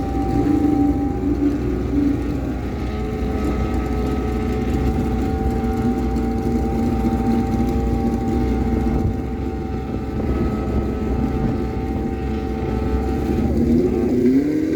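A drag racing motorcycle engine running at Miramichi Dragway, holding a loud steady droning idle with harmonic hum for the whole stretch and a slight rise at the end, near and without voices.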